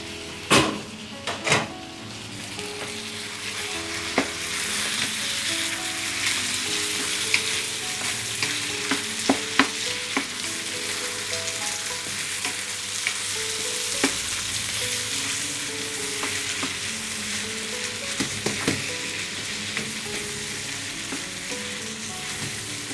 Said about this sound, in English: The tomatoes can go inside the karahi now.